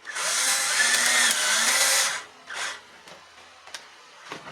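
A power drill bores a hole in a metal sheet with a loud, steady whine for about two seconds, followed by a short second burst and a few faint metallic clicks.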